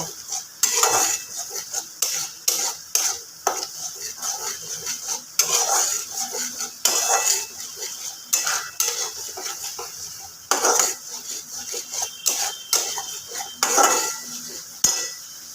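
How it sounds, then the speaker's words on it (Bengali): Spice paste being stirred and sautéed in a pan for katla fish kalia, with repeated metal scraping and clinking of a spoon against the pan in irregular bursts, close and fairly loud, over a faint sizzle. "খুব ভালোভাবে আমি পেস্ট করে নেব কষে নেব মশলাটা আমি পুরো মশলাটা খুব সুন্দরভাবে আমি কষে নেব"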